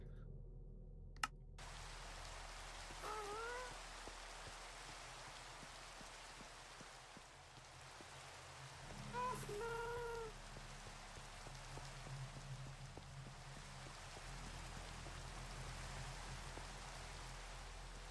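Rain patters steadily on surfaces in a modded Minecraft world, a dense soft hiss with scattered drops and clicks over a low hum, and a few faint chirping tones in the middle.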